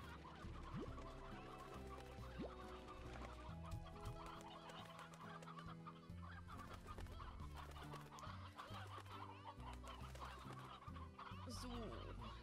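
Several roosters cluck and crow in the video game Slime Rancher, their overlapping calls continuous over a steady layer of game music, with no talk.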